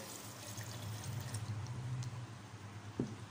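A glass of water pours into a bowl of appam batter made with cardamom powder, baking soda and salt, a quiet steady trickle ending in a small splash.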